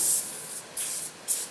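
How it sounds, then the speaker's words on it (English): Lubricant is sprayed around a rust-stuck brake rotor on a two-wheel-drive Dodge Dakota in three short, close, bright hissing bursts separated by brief pauses. "spray some lubricant around it."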